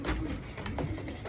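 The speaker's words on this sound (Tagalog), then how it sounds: "Second bird natin." A racing pigeon in a Filipino loft during a Bulan, Sorsogon race, a brown bird of Bio Research and John Arden bloodline, coos softly and repeatedly close by over a steady background hiss.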